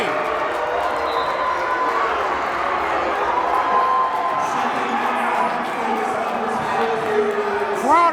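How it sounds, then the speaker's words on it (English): Basketball fans in a high school girls' gym crowd loudly protest a referee's call on a rebound, a sustained roar of booing and shouting that stays steady and close throughout, with sneaker squeaks near the end. "Crowd is up in arms."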